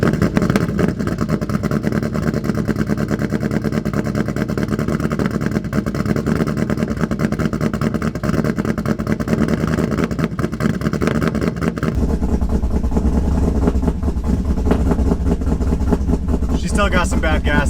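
A modified Chevy 5.3 LS V8 runs in a Silverado pickup with a steady, rough idle, still on bad gas. The engine shifts to a deeper, heavier rumble partway through, and a voice speaks briefly over it.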